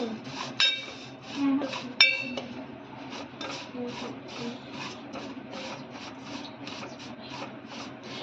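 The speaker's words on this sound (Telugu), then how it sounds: "డ్రై అయ్యే వరకు ఇలా కలుపుతూ ఉండాలండి." A spoon stirs a sweet mixture in a pan until it dries, making steady, rhythmic scraping strokes with a few sharper clinks near the start, close and moderately loud, with no talk.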